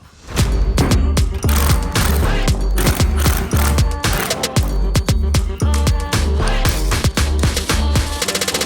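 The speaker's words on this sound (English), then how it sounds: "I'm gonna be using a 19mm socket and wrench to loosen them up" A 19mm socket and wrench loosen tight bolts while installing high-steer iron knuckles with a heavy-duty tie rod and drag link, giving loud, rapid metallic clacks and impacts that repeat in quick, uneven bursts close by.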